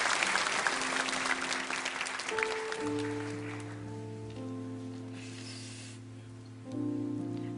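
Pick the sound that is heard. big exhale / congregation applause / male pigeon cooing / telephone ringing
congregation applause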